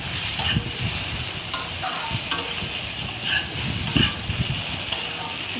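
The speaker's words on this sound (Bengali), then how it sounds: "একটু নাড়াচাড়া করতে হবে। একটু লবণ দিয়ে দিলাম, একটু চিনি দিয়ে দিলাম। একটু কষিয়ে নিতে হবে" Potato and pointed gourd curry being stir-fried with salt and sugar makes a steady sizzle, broken by repeated scrapes and knocks of a spatula against the pan as the vegetables are tossed, with no talking.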